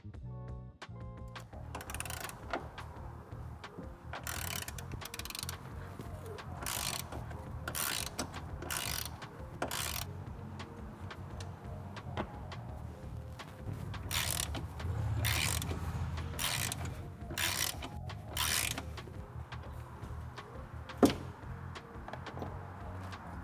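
A socket ratchet loosens 10mm and 13mm bolts on a strut tower brace of a 2016 Chevrolet Camaro SS, producing close, repeated clicking runs in bursts, with metallic clunks between.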